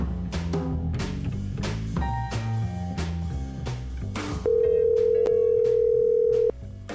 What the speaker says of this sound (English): Let's eavesdrop on a phone call with my mom, Babsie.